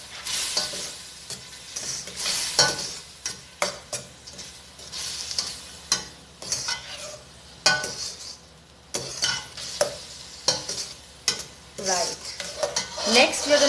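Chopped onions frying in a pan for prawn noodles, stirred with a utensil: a sizzle runs underneath while the utensil scrapes and clanks against the pan in irregular bursts, close up and without talk.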